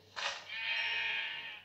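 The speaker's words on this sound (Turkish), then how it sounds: "Oho, üç tane koyun." A Minecraft sheep bleats once, a clear, sustained wavering cry lasting over a second, close and alone with no talk.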